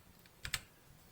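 Two quick, crisp clicks come from a computer keyboard, struck close by in an otherwise quiet room.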